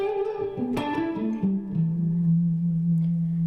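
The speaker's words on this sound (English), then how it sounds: "So right now I'm using the neck pickup." A Brian May signature electric guitar played through its neck pickup: a short run of clean, warm plucked notes descending in pitch, ending on one sustained low note that rings out alone.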